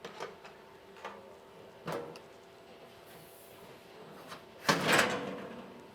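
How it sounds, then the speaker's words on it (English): Three latches are undone and the front cover of a belt merge system is taken off: a few sharp clicks and knocks come first, then a louder clatter and rattle as the cover comes away. "We're going to remove this front cover by undoing the 3 latches."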